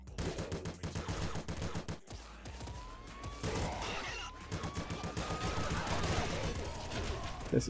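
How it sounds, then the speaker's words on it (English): Rapid machine-gun fire from triple machine guns in the Nuclear Throne video game, dense continuous bursts running throughout with other game sound effects layered in, loud and near. "Triple machine guns here as well."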